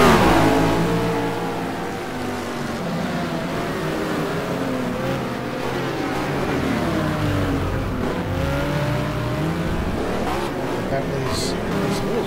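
GT2 race cars lapping slower traffic at Anderstorp, engines revving and shifting with rising and falling pitch sweeps as cars pass close by, loud and continuous beneath race commentary.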